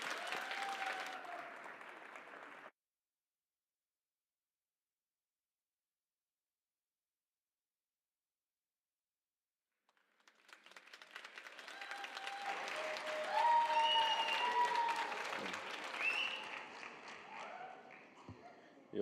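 Applause from a conference audience for a guest of honor at a cricket-themed keynote event, building after a silent gap into a sustained, fairly loud wash of clapping with some voices mixed in.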